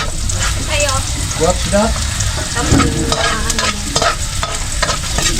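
Eggs sizzle and crackle in a hot pan while being stirred and scrambled for a breakfast fry-up, a steady frying hiss under a brief spoken question.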